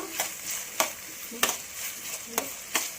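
Tomatoes frying in a pan for a mushroom gravy with coconut, a soft steady sizzle broken by a few sharp scraping stirs at irregular intervals, close and fairly quiet with no talking.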